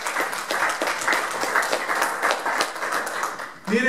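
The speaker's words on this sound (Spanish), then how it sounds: "Den un aplauso fuerte al Señor" A church congregation claps for the Lord, dense, steady applause filling the room throughout, with a brief voice or shout near the end.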